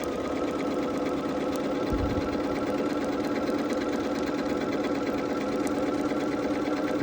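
A sewing machine stitches quilt fabric pieces for a Hunter Star quilt in blue and gold, giving a fast, continuous mechanical whir at close range with no breaks or voices.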